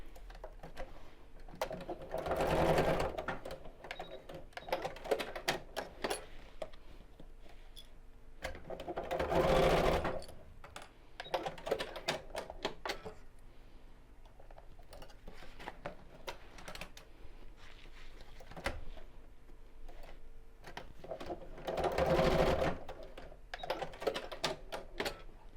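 A sewing machine stitches across the top of a fabric shopping tote, running in three louder bursts separated by quieter stretches of clicking and handling, close and clear with no talk.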